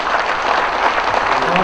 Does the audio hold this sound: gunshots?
no